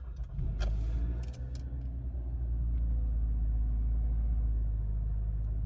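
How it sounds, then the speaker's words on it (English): A 2016 Toyota Camry engine cranks briefly and catches, then settles into a smooth, steady low idle heard from inside the car, with a few light clicks and jingles near the start. "So we'll just turn the car over."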